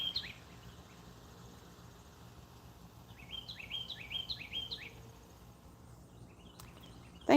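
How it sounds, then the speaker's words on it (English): A small bird chirps a quick series of repeated notes outdoors amid faint background hum, with a lone call near the start. "Hearing the birds."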